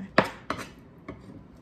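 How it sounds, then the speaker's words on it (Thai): A kitchen knife held at an angle slicing chicken thinly for panang curry on a cutting board, three distinct close cuts, the first two sharp and loud, the last softer, with no talking. "ใช้วิธีหั่นแบบสไลด์บางนะคะ แบบนี้ค่ะ จะได้เป็นแ ผ่นบางๆนะคะ ต้องใช้มีดเอียง"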